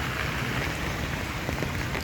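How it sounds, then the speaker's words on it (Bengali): Heavy rain pours down steadily on a city road, a dense, continuous hiss with no voices and no breaks. "প্রচুর পরিমাণ বৃষ্টি হচ্ছে"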